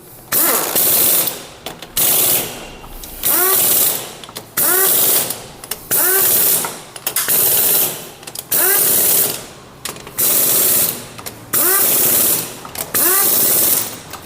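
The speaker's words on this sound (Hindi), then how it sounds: "हमने इम्पैक्ट मशीन के द्वारा बोल्टों को प्रॉपर तरीके से टाइट कर लिया है" An impact wrench tightens clutch chamber bolts on an Apache RTR 200 4V motorcycle in a series of loud, close bursts of rapid hammering, about eight in a row, separated by short pauses.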